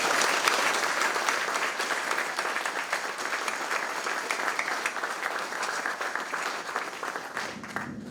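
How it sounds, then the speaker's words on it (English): Sustained applause from an audience at a military groundbreaking ceremony, dense clapping that holds steady for several seconds before thinning slightly at the end. "Please join me in a round of applause for these partners and their commitment to this project."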